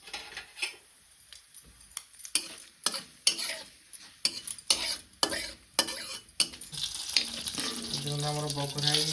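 Dried red chilies and whole spices tempering in hot oil in a wok, rapid repeated scraping and stirring clatter in bursts, then a steadier sizzling hiss toward the end.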